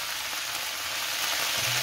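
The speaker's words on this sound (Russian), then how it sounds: "пасту немножко обжарить." Tomato paste fries in a pan with a steady, close sizzle and soft crackling, continuous from start to finish with no talking.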